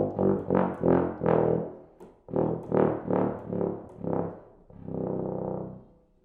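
A euphonium sounds a sequence of very low pedal notes, reaching down to a pedal C, as a row of separate sustained tones with short breaths between them and a longer held note at the end, played alone.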